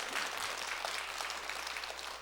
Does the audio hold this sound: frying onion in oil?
no